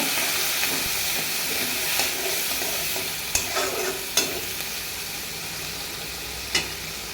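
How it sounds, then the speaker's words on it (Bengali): Prawns sizzle steadily in hot oil with fried onions while being stirred, giving a dense continuous hiss with a few sharp clanks of the spatula against the pan. "এই যে চিংড়ি দিয়ে দিলাম চিংড়িটাও সাথে ভাজা ভাজা করে নেব"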